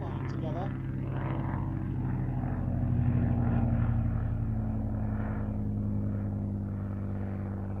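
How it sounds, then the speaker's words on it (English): A 1930s Hawker Fury I biplane from the Historic Aircraft Collection drones past at the Shuttleworth Fly Navy airshow, its piston engine a steady propeller hum that swells slightly mid-pass, heard beneath a commentator's voice. "The Historic Aircraft Collection's Fury 1, completing what was for a time a quintet of Hawker biplanes of the 1930s"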